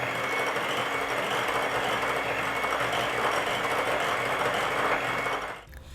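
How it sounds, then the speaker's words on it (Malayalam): Electric mixer beating rich chocolate cake batter with melted chocolate added, a steady loud whirring drone running alone until it cuts off near the end. "ഇനി ഇതും കൂടി ചേർത്ത് നല്ലതുപോലെ ഒന്ന് ബീറ്റ് ചെയ്യാം."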